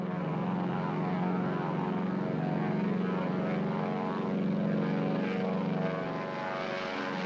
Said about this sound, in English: I loved the sound of the engines of the DC-3.